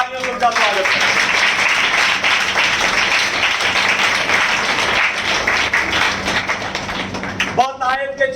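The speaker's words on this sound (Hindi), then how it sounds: "हम जोरदार तालियों से उनका स्वागत करें" A church congregation applauds loudly in a continuous, dense wave of clapping that lasts several seconds, framed by a preacher's voice at the start and the end.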